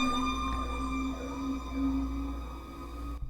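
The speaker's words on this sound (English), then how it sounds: "That was like the 4th time some ambulances and police cars drove by." Sirens of ambulances and police cars driving by outdoors, a steady wailing tone over a low engine rumble, sustained and fairly loud throughout with no talking.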